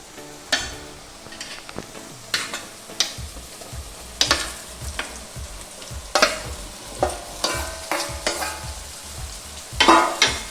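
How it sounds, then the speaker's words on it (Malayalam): Cooked beef stirred into onion masala in a hot pan makes repeated scraping and clacking spoon strokes over a continuous sizzle, close and fairly loud, with no talking. "അപ്പോൾ നമുക്ക് ഇങ്ങനെ വേവിച്ച് വെക്കുന്ന ബീഫ് നമുക്ക് ഈ മസാലയിലേക്ക് ഇടാം."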